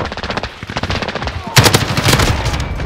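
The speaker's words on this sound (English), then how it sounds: "Stop shooting! Reloading!" Rapid automatic gunfire in a Call of Duty Modern Warfare Team Deathmatch on Shoot House plays as dense, loud bursts of shots, the volley growing heavier about halfway through.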